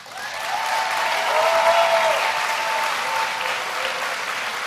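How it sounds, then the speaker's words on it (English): A conference audience at a spring business conference session applauds sponsors in a sustained, dense wash of clapping with a faint voice under it. "Sponsors, please stand to get your raving applause from our amazing people here today"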